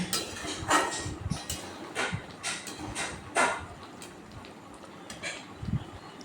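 A spoon scrapes and clinks against a pan as raw mango pickle is stirred over a high gas flame. Irregular metallic knocks repeat every second or so, close and fairly clear.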